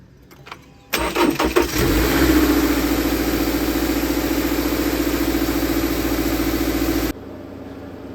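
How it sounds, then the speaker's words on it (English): A 2021 Subaru Outback engine cranks briefly, catches and fires up, then settles into a loud, steady idle for several seconds before cutting off. "now we have to turn the engine on, make sure it works."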